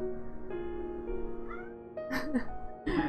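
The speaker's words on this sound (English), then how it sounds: "Ah! Cat!" A cat meows a few times over a sustained musical drone in Final Fantasy XIV, with a short cry near the end; game-style ambience underneath.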